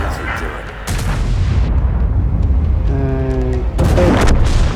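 A heavy tank cannon boom in a game, a Black Prince tank, with a sharp broadband blast near the start and another toward the end, over continuous rumbling battle noise and a brief voice.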